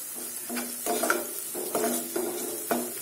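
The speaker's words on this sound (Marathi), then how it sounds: "आता हिरवी मिरची पण छान परतून घेऊया." Green chilies and onion are sautéed in a pan for pav bhaji, with a spatula scraping and knocking the metal in a few uneven strokes over a soft, constant sizzle. Nearby and fairly quiet, with no talking.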